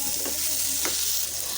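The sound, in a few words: stirring cauliflower and chicken fry in a pan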